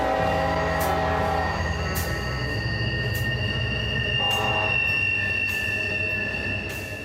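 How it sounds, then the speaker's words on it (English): A train rolls through a small southern West Virginia town, wheels squealing on the rails in long sustained tones over a steady loud rumble of passing cars, with no voices. "There's your train coming."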